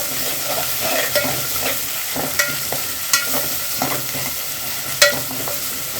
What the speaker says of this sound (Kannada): ಶುಂಠಿ ಬೆಳ್ಳುಳ್ಳಿ ಪೇಸ್ಟ್ ಈರುಳ್ಳಿ ಈರುಳ್ಳಿಲಿ ಹಾಕಿಬಿಟ್ಟು ಈ ಥರ ಮಿಕ್ಸ್ ಮಾಡ್ಕೊಳ್ಬೇಕು